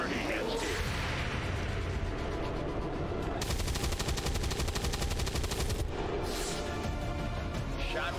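Gunfire in the XCOM 2 video game: a loud, sustained rapid burst of automatic shots lasting a couple of seconds, framed by other game combat noise.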